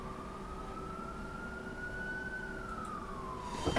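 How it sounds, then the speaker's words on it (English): A single distant in-game emergency siren from a North London train simulator wails steadily, its pitch rising slowly and then falling, against a low background rumble, with no voices. "Again with the sirens."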